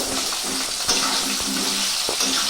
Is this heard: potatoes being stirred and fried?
yes